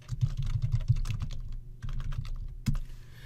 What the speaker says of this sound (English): I'll just type in covered calls.